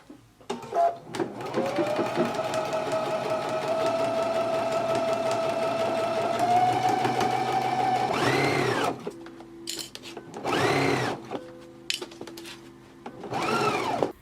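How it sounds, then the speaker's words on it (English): A sewing machine stitches a jacket lining to its band with a 5/8 inch seam, running steadily and close for about eight seconds, then stopping and restarting in short back-stitch bursts with pauses between. "So let's go ahead and stitch our lining to our band now."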